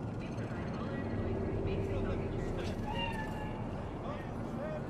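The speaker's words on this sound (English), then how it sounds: "Do you see it? That cat?" A cat in Night City in the video game Cyberpunk 2077 gives a few short, faint meows, nearly buried under a constant low city hum and rumble, with voices talking nearby.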